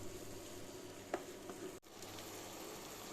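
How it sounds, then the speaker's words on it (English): Ackee and saltfish simmers gently in a pan, a soft steady sizzle with a couple of faint utensil taps and a brief dropout midway, no talk. "I'm just going to reduce the heat and simmer for a few more minutes"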